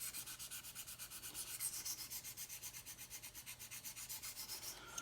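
A knife edge scrubbed back and forth on a KME sharpening stone, a soft, rhythmic gritty rasp of quick even strokes, close and quiet with no talking.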